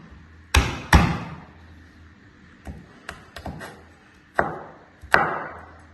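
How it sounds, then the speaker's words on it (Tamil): A knife chops garlic for an omelette on a cutting board, giving sharp, close, separate knocks: a few hard strikes, a pause, then more scattered taps and two further firm chops. "பூண்டை வந்து இது இந்த ஆம்லெட்டுக்கு குட்டி குட்டியாக வெட்டிடணும்"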